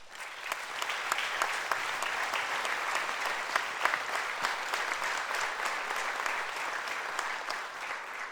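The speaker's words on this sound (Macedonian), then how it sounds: "овој аплауз е за вас" A large audience applauds steadily at the closing ceremony of the Vojdan Chernodrinski theatre festival in Prilep, a dense, even clapping that stays loud throughout.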